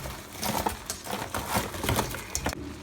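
Crispy Korean chicken wings tumble into a wok with a dense, crackling clatter and bursts of sizzle, loud and close for a few seconds before cutting off abruptly.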